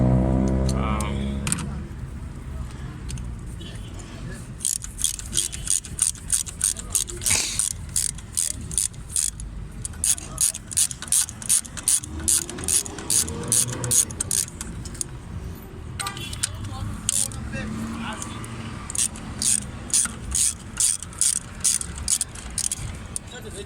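A ratchet fitted with a 16 mm socket works the spark plugs out of a Fiat 500, giving repeated runs of rapid, close metallic clicking with short pauses between strokes.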